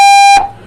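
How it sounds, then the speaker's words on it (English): A paintball field buzzer gives one loud, steady electronic tone that stops abruptly after about a third of a second and leaves a short decaying tail, with no voices. "went and touched the buzzer"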